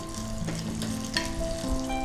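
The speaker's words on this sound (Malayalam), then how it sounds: "നെയ്യും ആ അണ്ടിപ്പരിപ്പൊക്കെ ഒന്ന് വറുത്തിടുമ്പോൾ ഒരു ഭംഗിയാണ്." Cashews fry in ghee, making a close, moderate sizzle with a few crackles and a faint steady hum underneath, continuous over a couple of seconds.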